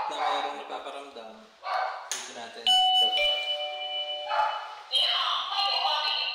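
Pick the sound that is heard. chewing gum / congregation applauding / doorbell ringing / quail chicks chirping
doorbell ringing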